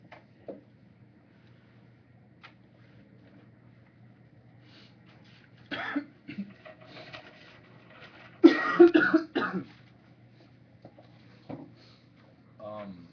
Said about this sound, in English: So what is that cough? What's making you cough now?